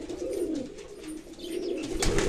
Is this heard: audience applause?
no